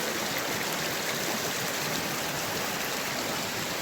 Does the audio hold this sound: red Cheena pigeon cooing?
no